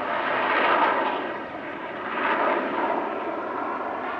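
An aerobatic display aircraft's engine roars at an airshow during a torque roll, a loud, continuous, distant drone that swells and fades in two slow waves, with no talk.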